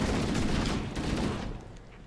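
Rapid assault rifle fire in the first-person shooter Halo: Combat Evolved, a dense stream of automatic shots heard close and loud, tapering off toward the end.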